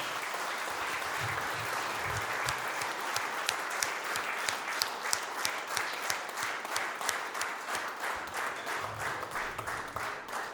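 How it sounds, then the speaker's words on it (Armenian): Long, loud applause from a concert audience, dense and continuous, turning into rhythmic unison clapping in the second half as the crowd falls into a shared beat. "երեկոյի ամենաբարձր ու ամենաերկար ծափահարությունները"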